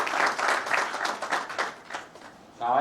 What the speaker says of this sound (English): let's give them a huge round of applause for their effort